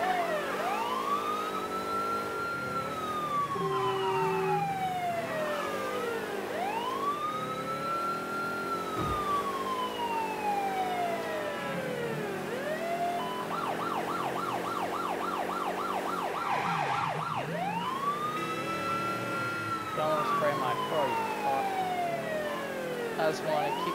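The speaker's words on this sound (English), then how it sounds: "let's roll in lights and sirens" A police car siren wails in the Mafia III video game, with long rising and falling sweeps repeating over about twenty seconds and a faster yelp pattern partway through, loud and steady over engine noise, with a brief spoken remark.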